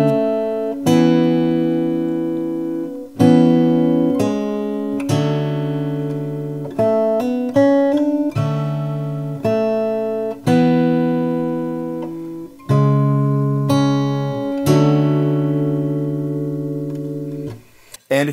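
Fingerpicked guitar with hammer-ons plays a slow riff from a song, separate plucked notes and chords ringing out and decaying, close and clear with no voice over it.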